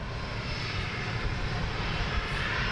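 A business jet taxis past at London Luton Airport, its engine giving a continuous, fairly close whine and rumble that holds steady and unbroken.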